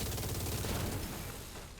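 Rapid automatic gunfire in The Division 2 during a boss fight, a dense, fairly quiet burst of repeated shots that fades slightly toward the end, with no talk.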